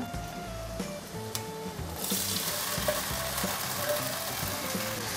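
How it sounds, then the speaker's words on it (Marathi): Grated sweet potato hits a hot tempering in the pan, and a quieter sizzle gives way partway through to louder, continuous frying hiss and stirring scrapes, with no voices. "आता ही फोडणी आहे ना ती चांगली आपण परतून घेऊया"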